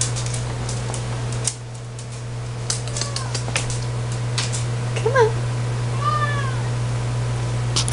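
A small kitten gives two short, thin meows a second apart indoors, over a steady electrical hum and a few light clicks and knocks.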